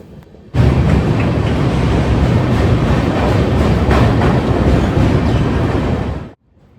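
A loud, close rumble of the Amrit Bharat Express train rolling along tracks, steady and continuous, then cutting off abruptly.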